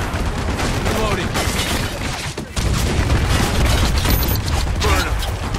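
Mortar fire and heavy combat gunfire in the war shooter Spec Ops: The Line, a dense, continuous barrage of booms and bursts with a sharp jump in loudness midway, shouted voices mixed in.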